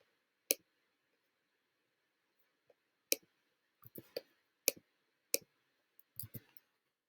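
A computer mouse clicks on a link in a quiet room: several sharp, isolated clicks, with a single one early on and a quicker cluster toward the end.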